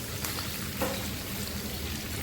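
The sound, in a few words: sautéing shallots with cinnamon, cloves, cardamom, lime leaves, lemongrass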